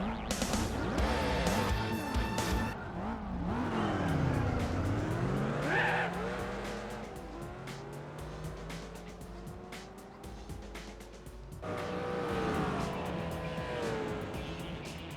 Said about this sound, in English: Rev up the Bugatti